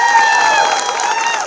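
Audience applause at a Kannada short film competition awards event, a dense wash of clapping and crowd noise with tonal music or voices running through it, loud and continuous.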